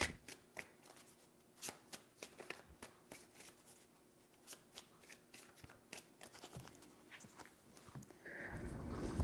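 Tarot cards handled and shuffled, a quiet string of soft clicks and taps close by, ending in a rising low rustle.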